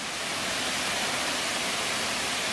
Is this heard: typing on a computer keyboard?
no